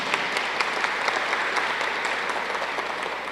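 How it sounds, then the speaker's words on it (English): A university audience applauds students working with Toyota on a mobility initiative, giving steady, even clapping throughout, full and continuous from start to end. "We want to give them a round of applause."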